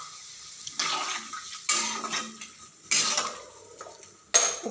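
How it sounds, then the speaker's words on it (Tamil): Tamarind water is poured into a pot for radish tamarind curry, with short splashy pours and metallic clinks of the pot and utensils coming in a few separate bursts. "புளி கரைச்சல் ஊற்றுறேன், கொஞ்சமாக தான் ஊற்றணும் இந்த புளி குழம்புக்கு"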